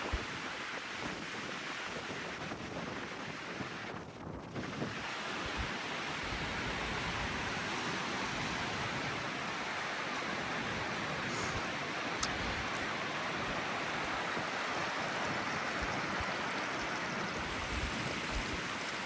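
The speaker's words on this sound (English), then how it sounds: "look at all the water that's coming down it" Water rushes down a stream after a 55 mph windstorm, a steady broadband wash of flowing water, continuous and fairly loud throughout without speech.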